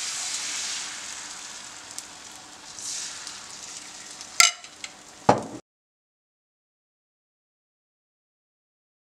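Beaten egg mixture for a Korean rolled omelette frying in an oiled pan, a steady hissing sizzle broken by two sharp clanks of a ladle before the sound cuts to silence.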